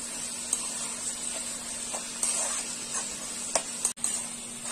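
Snake gourd sabji frying on high heat hisses steadily while being pressed in the pan, with soft scraping and occasional small clicks over a constant hum.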